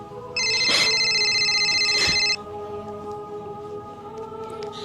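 A telephone ringing in a home, two loud electronic ring bursts close by, followed by quiet room tone with faint background hum.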